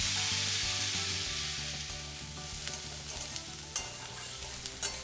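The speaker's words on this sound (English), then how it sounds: "In the same kadhai, we will now add the chopped onions." Chopped onions hitting hot oil in a kadhai, a loud close sizzle that eases down into a softer crackle with a few sharp stirring clicks, no voices.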